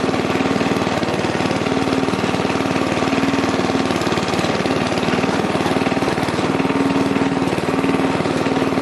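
A Murray Wide Body riding lawn mower runs off-road on a skidder trail, its engine droning loud and steady at close range without a break.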